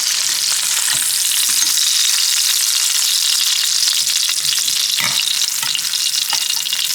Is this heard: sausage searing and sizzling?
yes